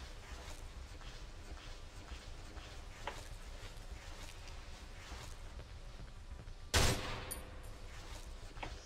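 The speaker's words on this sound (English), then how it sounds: "he shot once and then ran" A boss in the horror video game Cry of Fear fires a single sharp gunshot late on, a loud, abrupt crack with a short tail that breaks through quiet, murky background ambience.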